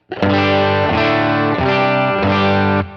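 A distorted electric guitar plays thick sustained chords through a stock Princeton Reverb patch on a Line 6 HX Stomp, four strummed changes ringing loud and saturated, with no voices.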